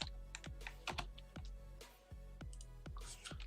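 Fingers type on a computer keyboard, making a steady run of crisp, close key clicks with brief pauses between bursts. No one speaks.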